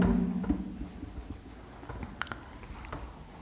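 A pen scratching Hindi shorthand strokes across paper, soft and close, with faint brief strokes and light taps.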